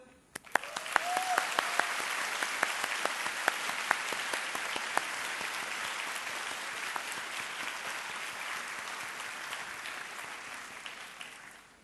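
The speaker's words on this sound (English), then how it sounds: "please join me in applauding them." A graduation audience applauds at length, with dense clapping that starts abruptly, holds steady and slowly thins toward the end, a few sharper claps standing out near the front.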